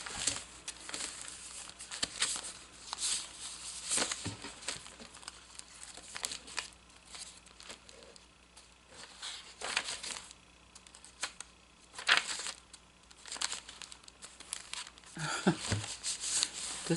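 A paper envelope is handled and crinkled up close, with soft rustles, crackles and sharp crinkling bursts scattered irregularly over a quiet background.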